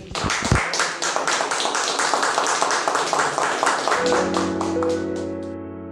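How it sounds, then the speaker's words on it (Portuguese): A church congregation at a prayer meeting claps together in quick rhythmic beats, close and lively, fading after a few seconds as a sustained musical tone takes over near the end. "Vamos aplaudir o Senhor Jesus?"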